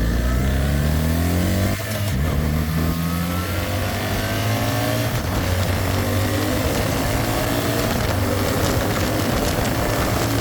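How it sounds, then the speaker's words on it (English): A BMW R 1300 GS with its 1300cc boxer engine accelerates through rising revs, a loud, continuous close engine note with a gear change shift early on, no voices. "That new 1300cc boxer engine just pulls with so much confidence."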